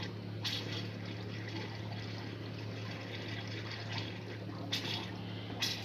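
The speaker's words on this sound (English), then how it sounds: "Now it's not sucking any water at all now. It's blowing air." A pump draining a water tank, now running dry and blowing air, gives a steady gurgling, splashing water rush with a constant low motor hum and a few sharp bursts, close and continuous.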